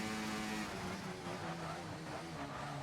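Race car engine at Monza during a qualifying hot lap, heard from onboard: a loud, continuous high-revving drone with steady harmonic tones and no talking.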